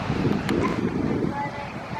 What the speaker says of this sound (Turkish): Çok esiyor kızım. Niye bu kadar esiyor?